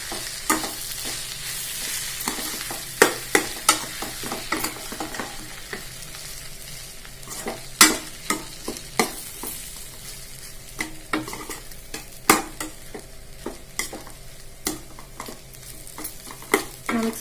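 Leftover rice is stirred in a hot pan, with a low sizzle under repeated sharp spatula scrapes and taps against the metal, close and irregular, with no talking.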